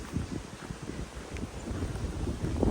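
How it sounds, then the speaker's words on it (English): Wind blows across a garden terrace in Texas, rumbling and buffeting the microphone in uneven gusts that swell louder toward the end, with no voices heard. "Ooh, so windy."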